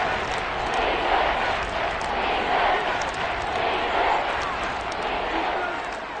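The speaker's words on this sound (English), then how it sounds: "The crowd here in the Dome making things difficult." A roaring crowd fills a dome stadium during an American football video game, a steady swelling din heard close and loud throughout.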